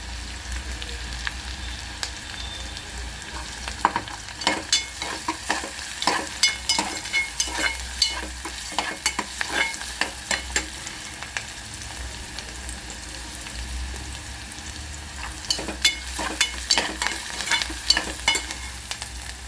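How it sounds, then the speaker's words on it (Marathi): Onion and garlic fry in a pan for pea rice, a soft continuous sizzle broken by repeated scraping strokes of a spoon stirring, clustered bursts of clatter coming and going, with no voices. "आपला कांदा भाजते त्यात आता आपल्याला लसूण ॲड करायचं आहे"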